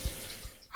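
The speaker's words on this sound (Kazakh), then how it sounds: "су ағызып, қолын жуып жатыр." Running tap water while someone washes their hands at a sink, a brief, quiet, soft wash of flowing water with a couple of small low knocks, heard alone.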